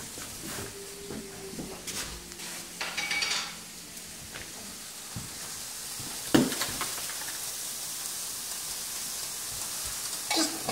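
Celery and onions fry with paprika in a pan for grandma's spicy chop suey, a soft steady sizzle broken by a few utensil clinks and stirring scrapes.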